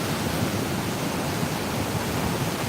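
Ocean surf crashes onto a beach as a continuous, loud, hissing wash of broadband noise, steady throughout and close by, with no voices.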